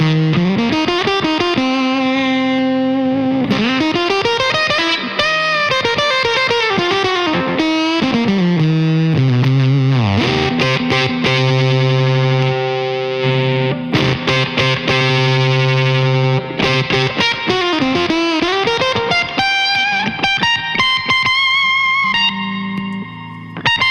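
Silicon fuzz from a Coriolis Effects Face Deluxe pedal on electric guitar, loud and saturated, with sustained chords and bending melodic lines played continuously and alone, without pauses.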